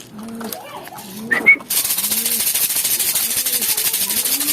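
Pigeons cooing close by in a loft, repeated soft low coos in a steady rhythm, joined midway by a loud steady mechanical rumbling noise that runs underneath the continuing coos.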